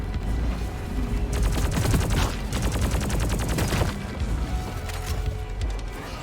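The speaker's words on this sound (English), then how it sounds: "we'll just use up the breach cutter rounds here" Rapid bursts of breach cutter fire in Deep Rock Galactic, a dense run of loud repeated blasts with crashing impacts layered over game noise, no speech.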